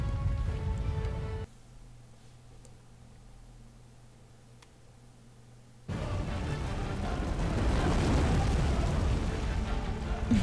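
An explosion erupts in the video game Tomb Raider Anniversary during the final boss fight on Lost Island, a sudden loud broadband roar that rushes in after a quieter stretch and keeps rumbling to the end.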